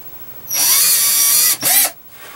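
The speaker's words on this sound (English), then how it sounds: "I'm going to drill just a small pilot hole," A power drill whirs at high speed for about a second drilling a small pilot hole, pauses briefly, then spins again, loud and close with no talking.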